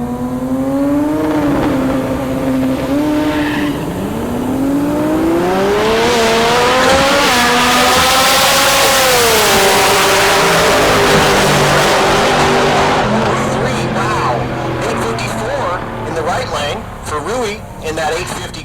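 Drag race cars, including a Supra and a Chevette, launch down the strip at Heartland Park Topeka, engines roaring loud and rising in pitch as they accelerate away, with tire noise and an announcer talking throughout.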